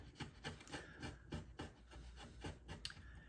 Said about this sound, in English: Now we use the scooped part of the gouge